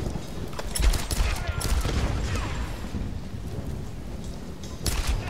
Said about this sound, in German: da muss ich jetzt ein paar Mal öfter schießen